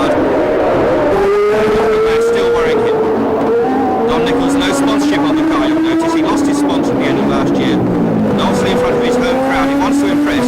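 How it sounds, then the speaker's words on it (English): A 1976 Formula 1 car with a screaming V12 engine roars loudly at high revs, its pitch rising and falling through gear changes as it races, under continuous commentary. "The V12 engine, it literally screams, this engine."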